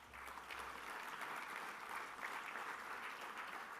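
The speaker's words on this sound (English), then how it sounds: "a round of applause for Trent" A round of applause at the George Piggins Medal presentation, a faint, even wash of crowd clapping heard from a distance, sustained without a break.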